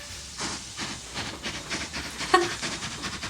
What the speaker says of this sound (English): It's literally a train.